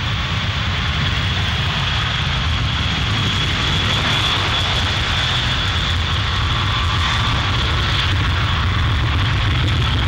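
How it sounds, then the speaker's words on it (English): A B-52 bomber's jet engines roar steadily and loud as it rolls down the runway at RAF Fairford, a sustained deep rumble with a high whine running through it. "That's a B-52, as you see it, leaving RAF Fairford, heading off for the war in Iraq."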